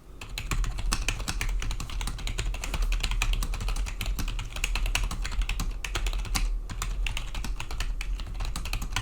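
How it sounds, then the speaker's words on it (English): Rapid typing on a cheap Rii RK100 gaming keyboard, dense clattering keystrokes in a fast, continuous stream, close and fairly loud, with a brief pause near the end and no speech. "If you're concerned about the sound of a keyboard this cheap, then here's a little sound test now."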